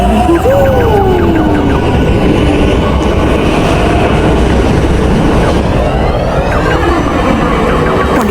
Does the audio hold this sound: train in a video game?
yes